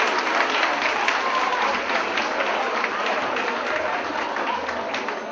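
Sustained clapping from an audience at a village association evening gathering in Turkey, dense and steady throughout, with a faint murmur of voices mixed in.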